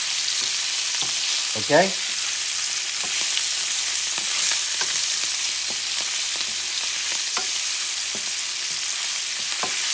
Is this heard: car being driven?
no